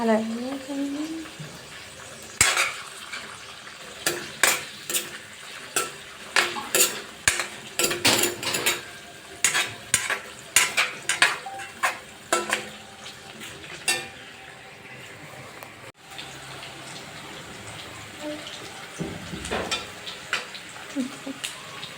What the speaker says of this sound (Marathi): आता तेलात पनीर टाकलेलं आहे तळण्यासाठी